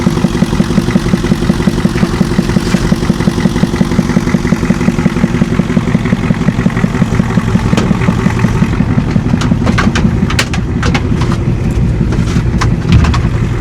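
Old 7.3 IDI diesel engine long out of service, running with a steady rapid clatter at idle, loud and near, with sharp ticking knocks and rattles toward the end.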